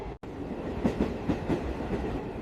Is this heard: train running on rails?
yes